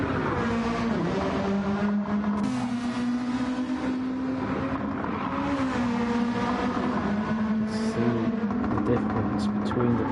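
Race car engine in Gran Turismo 7 at the Nürburgring 24h, droning steadily through a left-hand corner with pitch sliding and holding under continuous commentary.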